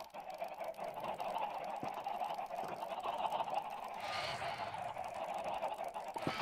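A crowd of Minecraft chickens gathered on an island, giving off a continuous, busy flock of overlapping clucks and honks, steady and fairly close, with a brief noisy burst partway through.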